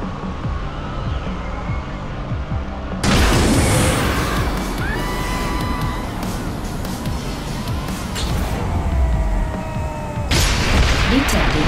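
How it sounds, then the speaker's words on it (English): Heavy booming explosions in the video game ScreamRide erupt twice, each followed by crashing, rumbling debris, with a steady low roar between them. "Multiple explosions."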